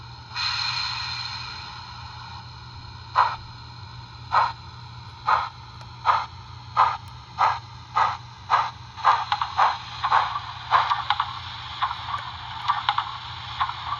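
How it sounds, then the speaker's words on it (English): Rhythmic steam chuffs from a model locomotive's ESU LokSound 2 DCC sound decoder, starting slow and spaced, then speeding up into rapid puffs over a low steady hum. "you get the steam chuffs, which I can show you here"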